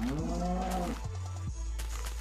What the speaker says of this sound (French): une vache ici.